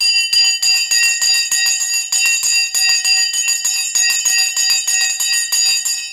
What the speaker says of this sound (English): The bell has now gone. We are off into the races.